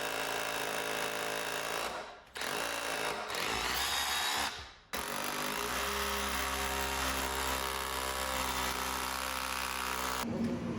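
A power drill fastens a wooden wheelchair ramp to concrete with a loud, continuous whirring drone, broken by two short pauses and then running steadily until it stops near the end.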